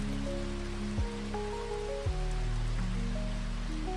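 Steady rain falling on a surface, a dense continuous hiss with no gaps, under a soft drifting background tone.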